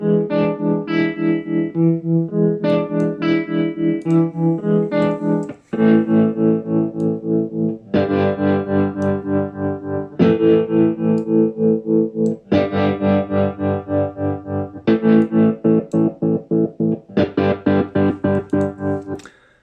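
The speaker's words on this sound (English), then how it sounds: "like a smoother sine wave modulation, and this is like a hard on-off chop" GoodHertz Trem Control tremolo plugin on a sustained chord, chopping the sound hard on and off in quick rhythmic pulses that repeat across a series of changing chords, loud and clean with no talking.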